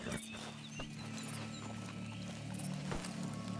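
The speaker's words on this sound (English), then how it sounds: "Can you get on the horse, Arthur?" In Red Dead Redemption 2, a horse's hooves clip-clop in a faint, steady rhythm against a constant low hum and game ambience.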